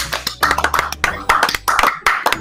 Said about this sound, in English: Can we just all have a round of applause?